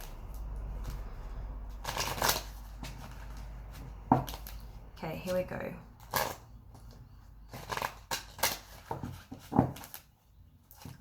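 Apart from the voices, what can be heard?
shuffling tarot cards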